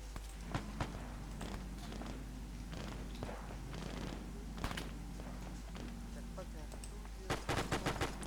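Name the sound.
sniper gunfire in the video game ArmA 3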